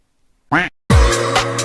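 A duck quack sound effect plays as one short nasal quack, followed after a brief gap by a louder, longer, buzzing quack, close and alone.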